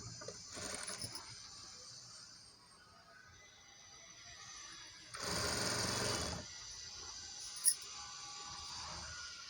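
A sewing machine stitches a half-inch folded hem on a frock made from a saree, with a faint earlier run and then a louder, steady burst of stitching lasting about a second and a half, followed by a brief click.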